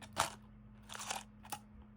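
Orbit chewing gum being bitten and chewed up close, with three crisp crunching bursts over a faint steady background hum and no talking.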